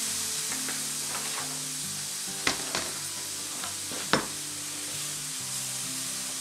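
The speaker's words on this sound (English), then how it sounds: "drop it right in there. Hear the sizzle." A venison roast sears in a hot pan with a continuous close sizzle, broken by a few sharp spits and crackles.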